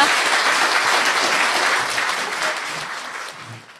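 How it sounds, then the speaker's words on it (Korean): An audience breaks into applause at the close of a Korean talk segment, dense clapping that starts full and gradually fades toward the end. "박수 한번 치고 이제 들어가는 걸로"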